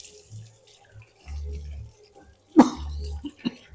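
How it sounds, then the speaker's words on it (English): Running tap water rinsing hands in a kitchen while baking toffee chocolate chip cookies, two short bursts of flow with a cough between them, close and fairly quiet. "I rinse my hands off."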